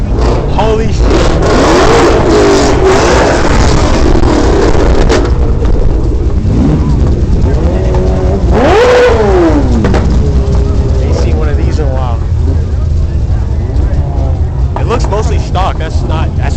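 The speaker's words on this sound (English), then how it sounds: "About to blow my ears out if he starts revving." A BMW E30 engine revs loudly and close, rising and falling through several sharp throttle blips over constant idle roar, with people talking over it.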